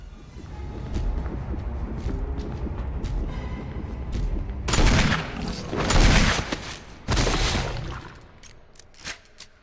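Bursts of gunfire in the Resident Evil 3 video game, with a quieter stretch of scattered shots followed by several loud, dense volleys of rapid firing, close and alone with no talk.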